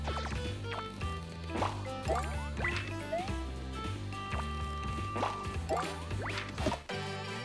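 Water flows and drips in the Paper Mario: Sticker Star video game, with repeated small droplet plinks and liquid trickles layered over the game's steady background music.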